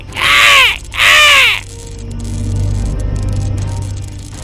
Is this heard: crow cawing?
yes